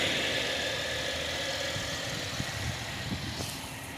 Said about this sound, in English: As you can hear the engine here